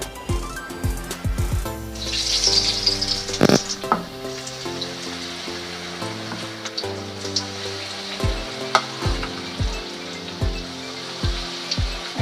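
Baby corn deep frying in plenty of white oil in a wok over medium heat, a steady hissing sizzle heard beneath prominent music with recurring low thumps.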